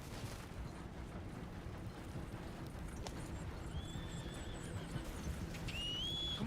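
Horse hooves clip-clop steadily through a video game, joined by a couple of whinnying neighs, heard amid constant in-game background noise.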